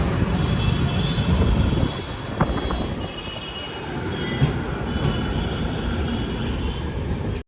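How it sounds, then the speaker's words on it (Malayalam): A passenger train pulling into Thanjavur Junction, heard from inside a first class AC coach: a steady, close rumble of wheels on rails with faint, thin squeals over it and no talking. "ഇപ്പം തഞ്ചാവൂർ റെയിൽവേ സ്റ്റേഷനിലേക്ക് നമ്മുടെ ട്രെയിൻ എത്തിക്കൊണ്ടിരിക്കുകയാണ്."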